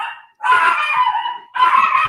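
Dogs entering a room give two loud, close, drawn-out barks or yelps with a short pause between them, and there is no talk.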